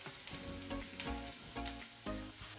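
Garlic frying in hot olive oil makes a bubbling sizzle with rhythmic stirring bumps and scrapes roughly every half second, quiet but close, with no speech.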